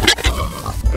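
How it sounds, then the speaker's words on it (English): Pigs on a farm property grunt and oink in short bursts close by, a few distinct snorts over about a second with no talking. "Here are the pigs."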